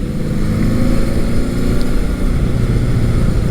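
A 1979 Honda CB750 K motorcycle riding along back roads, its engine a steady, loud low rumble with constant drone and wind noise throughout, close up, no voices.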